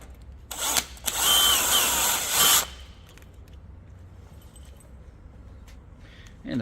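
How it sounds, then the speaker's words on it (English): A cordless power drill drives a screw into a steel tunnelhouse saddle in one loud, steady whir of about two seconds, with a brief burst just before it. Afterward only faint background noise remains. "Screw goes in, and there's 2 more screws to go in, one underneath and one in the centre."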